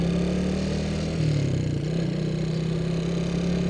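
An angkot minibus passes at an intersection, a steady mid-pitched engine drone that swells briefly and fades as it goes by, heard over continuous street traffic noise.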